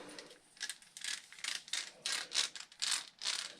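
A stock factory axle from a Losi LMT RC truck spins with a rough, gritty rattle that pulses in uneven bursts, close and fairly quiet.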